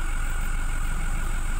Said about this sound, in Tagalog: maingay lang yung makina